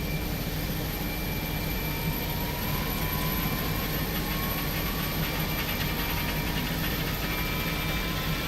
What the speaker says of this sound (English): And engine number 1 coming alive.